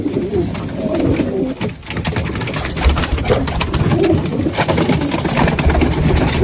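Pigeons cooing inside a coop of fancy Mardin tumbler show birds, a steady layered murmur of coos close by and continuous throughout, with a faint engine-like hum underneath and no talk.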